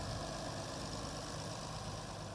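An Allis-Chalmers WD-45 diesel tractor engine idles steadily, a constant even drone that stays close and level with no talk over it.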